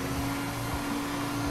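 Vacuum cleaner running with a continuous, loud, even whir throughout.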